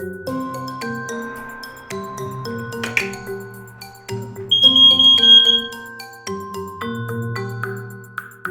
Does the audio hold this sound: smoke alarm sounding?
yes